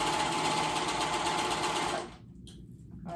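Sewing machine stitching paperbag pants up close, a fast steady mechanical whir that runs for about two seconds, stops abruptly, then briefly restarts at the end.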